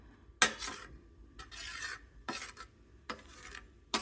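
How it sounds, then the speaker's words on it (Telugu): A spoon stirring through slime in a bowl, producing several short wet, squelchy scraping strokes in an uneven rhythm, close and fairly quiet, with no voices. "స్పూన్తో కలపాలి."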